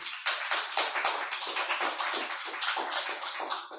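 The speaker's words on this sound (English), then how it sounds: "please feel free to give him a round of applause" Applause from a live audience at a talk on Detroit's Yiddish theater, a dense, steady patter of many hands clapping at once, fairly loud and continuous with no voices over it.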